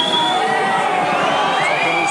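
A rugby league crowd at a St Helens versus Leeds match keeps up a loud, dense roar of whistles and jeers as a Leeds kicker lines up a penalty, with a commentator's voice running over it.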